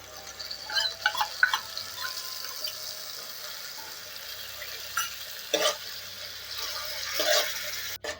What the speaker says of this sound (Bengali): এটা আমি লো ফ্লেমে কষাতে থাকবো যতক্ষণ না মশলা থেকে তেল ছেড়ে দিচ্ছে